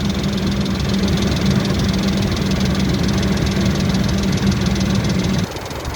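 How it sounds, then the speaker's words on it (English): A 10th-generation Ford F150 XLT Supercrew engine idles with a slight top-end rattle near the variable valve timing, a steady close rumble with a faint ticking texture that drops slightly near the end. "It's got a little bit of a rattle in the top end at up at the variable valve timing"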